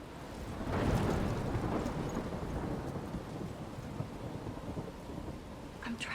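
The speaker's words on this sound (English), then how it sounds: "I'm trapped in a storm?" Thunder rumbles heavily over steady rainfall in a storm within the video game Life is Strange, a deep rolling crack peaking early then fading into a long, low grumble under continuous rain.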